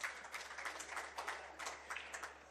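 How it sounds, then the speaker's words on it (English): Spectators at a neighbouring table clap during a pool tournament hot seat match, a scattered, moderately distant patter of applause that carries steadily through the whole moment. "The clapping you hear is because Attica just hooked Mika real good."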